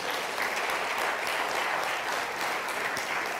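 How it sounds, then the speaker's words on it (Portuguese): Steady applause from a church congregation, a dense wash of many hands clapping continuously at even strength throughout with no voices. "Um grande aplauso ao nosso Deus."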